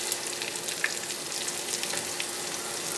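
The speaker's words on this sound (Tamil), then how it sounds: "நல்லா வாசம் வரத்துக்கு இது லைட்டாக ஃப்ரை பண்ணிக்கிறோம்." Onion lightly frying in a pan gives a steady, even sizzle that stays close and level throughout, with no voices.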